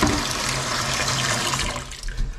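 Water runs and sprays steadily from a leaking kitchen faucet sprayer at a sink, a loud close rushing hiss that continues throughout with a slight surge near the end.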